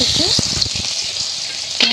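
Chopped onions sizzle in hot fish oil with melted sugar for a rui fish curry, a steady close frying hiss broken by a few stirring knocks and scrapes, with brief talk early on.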